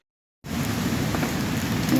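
Rain falls steadily in the forest, a continuous moderate hiss that starts abruptly after a short silence and holds at an even level.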